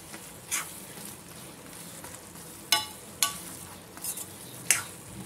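Drumstick masala gravy simmering in a pan as it is stirred, a soft low bubbling hiss broken by several sharp spoon scrapes and taps against the pan.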